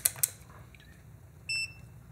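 A continuity tester gives a short electronic beep once, brief and clear over a quiet background, after a couple of faint clicks, while checking a cable.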